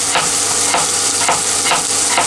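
Potatoes frying in a pan ahead of zucchini for a zucchini-potato skillet: a steady close sizzle with repeated stirring scrapes recurring about every half second, no talking.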